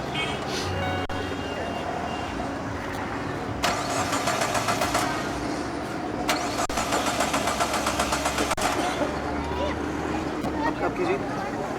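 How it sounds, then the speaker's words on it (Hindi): A car engine is cranked repeatedly without catching, two long bursts of rapid, rhythmic starter whirring with a low engine hum between them, while people talk over it. "वो दरअसल मेरी गाड़ी स्टार्ट नहीं हो रही, शायद कचरा आ गया है।"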